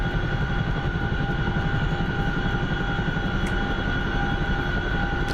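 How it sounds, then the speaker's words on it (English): A combat takeoff in a flight simulator game: a loud, steady aircraft engine roar with a constant droning hum that holds unbroken throughout, no talking. "Here we go. Little combat takeoff."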